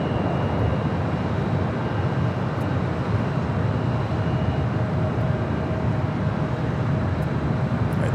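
A Cathay Pacific Boeing 777 rolls down runway 25 right at LAX, heard as a continuous loud jet-engine roar, steady and unbroken, with no talk over it.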